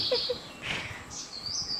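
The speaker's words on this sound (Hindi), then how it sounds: "सुबह से चिड़ियों की आवाज़ें आ रही है।" Birds chirp around a homestay set among large mango trees in Konkan: a few short, high calls and sharp tweets, fairly close, against a quiet background.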